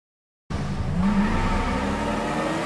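A car engine revs up and holds a rising whine, loud and close, with a brief tire-like squeal early on.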